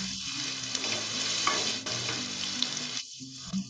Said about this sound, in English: Add in the salt and cook this till the onion sweats.